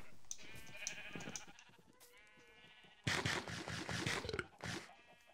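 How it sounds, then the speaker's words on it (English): Sheep bleat repeatedly, nearby, their wavering calls overlapping; the chorus grows louder and busier partway through with scraping noises underneath. "wonderful sheep noises."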